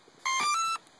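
A single short electronic beep from an RC plane receiver as it is plugged in, clean and fairly quiet, lasting about half a second against near silence.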